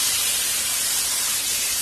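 Marinated chicken sizzles in a hot oiled pan over a high flame, giving a loud, steady, broadband hiss that holds at an even level throughout with no talking.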